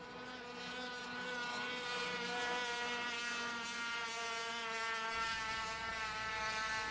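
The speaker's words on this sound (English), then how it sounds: "speeds of about 70 miles an hour out of these little 1-cylinder motors" Small single-cylinder racing boat engine screaming at high speed during a boat race, a steady high-pitched buzzing whine with rich harmonics that holds throughout at moderate distance.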